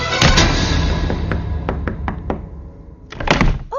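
Knocking on a door in a Hindi drama scene: a rapid burst of knocks, then a row of single sharp raps spaced about every quarter second, and a last flurry, loud and close.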